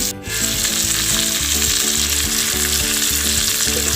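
Chicken leg pieces frying in a pan, a dense, loud, continuous sizzle with steady crackling throughout and no talk.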